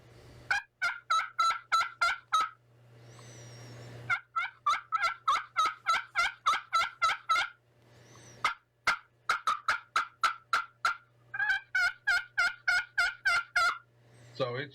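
A crystal slate turkey call worked with a striker gives rapid runs of sharp, raspy yelps and clucks in several bursts with brief pauses, loud and close, with no talking.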